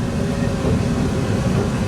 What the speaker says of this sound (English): Just start the train.